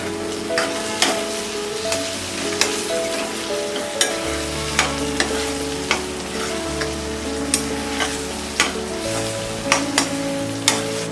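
Mint leaves are stirred into sizzling egg biryani masala in a pan, a steady close frying hiss punctuated by regular spatula clacks and scrapes, with no talk.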